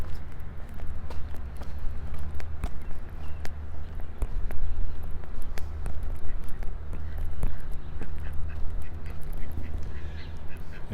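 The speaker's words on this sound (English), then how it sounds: "A duck, a random duck." A single duck wanders on land away from a still partly frozen lake in Regina, giving repeated quacks over a steady background of outdoor noise and footsteps.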